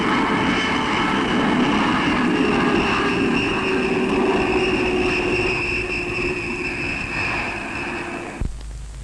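A jet aircraft roars steadily overhead during in-flight drop tests of an anti-submarine missile, a loud continuous engine drone with a high whine that holds for about eight seconds, then cuts off abruptly.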